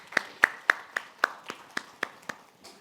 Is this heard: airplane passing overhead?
no